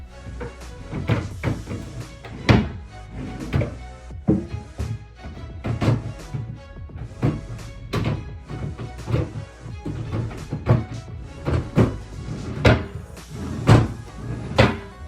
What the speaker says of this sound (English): you guys want to do the same thing for each one of the drawers and then put it in